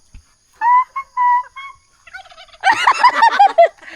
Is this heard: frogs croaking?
no